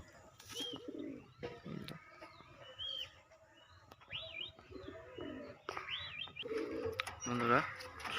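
Pet pigeons nearby, coos and soft chirps in short separate bursts over a quiet outdoor background, with faint scattered voices.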